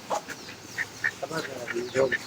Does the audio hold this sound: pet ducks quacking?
yes